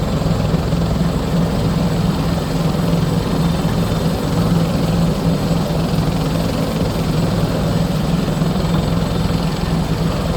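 A simulated Bell 412 helicopter lifts off in the Prepar3D flight simulator, a loud, constant rotor and turbine drone with a low throb that stays steady and dense throughout, with no talk.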